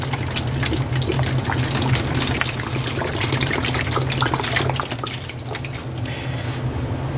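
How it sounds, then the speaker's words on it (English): Water poured from a bottle into a container, a steady gushing, splashing flow with dripping detail that runs continuously and then thins slightly near the end, close and fairly loud. "I am going to fill the bottle with water and pour that in here as well"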